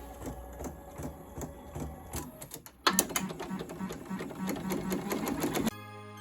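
An embroidery machine stitches a Bad Bunny themed sweater with a steady, rapid mechanical chatter that grows louder partway through, then stops abruptly near the end.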